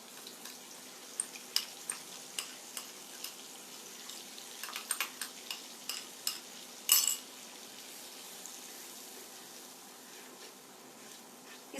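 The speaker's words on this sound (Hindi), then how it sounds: "इसको लगभग 1 से 2 मिनट तक हम अच्छे से भूनेंगे" Masala for black chickpeas roasts in a pan with a soft, quiet sizzle, broken by scattered light clicks and taps of stirring and a brief louder scrape.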